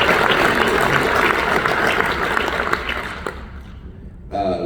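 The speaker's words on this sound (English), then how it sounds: "They also deserve a round of applause" A crowd at a union meeting applauds, a broad wash of clapping that is loud at first and then thins and fades out before a brief voice at the end.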